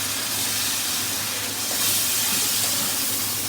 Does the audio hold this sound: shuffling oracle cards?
no